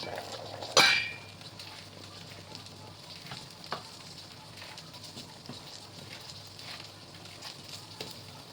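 Spinach is stirred into Nigerian egusi soup as it simmers, with a soft sizzle, a sharp utensil clink near the start and faint scraping and bubbling after.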